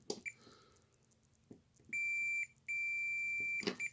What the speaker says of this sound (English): Switch closes,